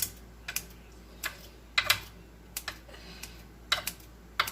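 Sausage is snipped with kitchen scissors while cooking spinach casserole, giving a series of sharp, close clicks and snips at an irregular pace, with no talk over them.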